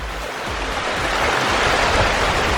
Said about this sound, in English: you can see this stump with the water going through it